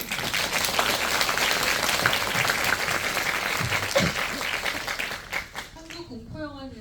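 Applause from a Korean film screening audience for actress Im Soo-jung, dense steady clapping filling most of the clip before thinning out near the end, where a voice begins speaking.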